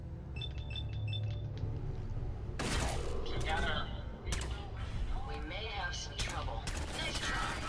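Gunfire crackles in Fallout 4 in dense, repeated bursts over game beeps and mechanical noises, while someone talks over the action.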